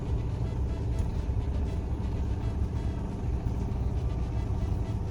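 A truck's engine brake rumbles on a downhill slope, a steady loud low-pitched drone that holds for the whole stretch with no break and no voices.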